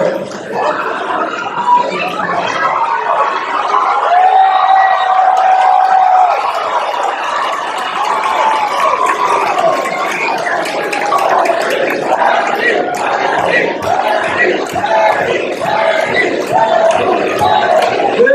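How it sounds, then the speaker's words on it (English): Large, loud, raucous crowd at a Bernie Sanders rally in Reading cheering and shouting, a dense roar of many voices that swells in the middle and carries on with ragged bursts of yelling. "Large, loud, raucous crowd right across here"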